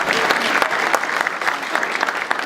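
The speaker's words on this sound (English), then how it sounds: "How about a round of applause for Candy?" Audience applause at a grant announcement event in Allentown, a brief burst of steady, close clapping from a modest crowd.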